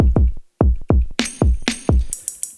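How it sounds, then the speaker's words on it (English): A loud Elektron Digitakt drum pattern with punchy low kick thumps, then gritty, overdriven layered snare hits joining in with a reverberant tail, steady and rhythmic. "So now our layered snare sounds like that."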